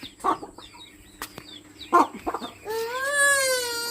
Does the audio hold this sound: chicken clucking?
yes